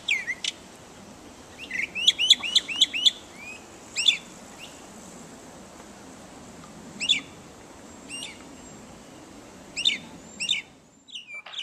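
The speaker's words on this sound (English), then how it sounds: "Mockingbirds are famous for their songs." Mockingbird singing outdoors, a burst of quick repeated chirping notes followed by scattered short phrases spaced a few seconds apart, moderately near over a quiet background hiss.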